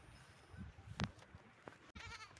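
A sheep bleats once, faint and somewhat distant, after being watered on a farm, followed by a short sharp bleat; the background is quiet and outdoors, with low rustling.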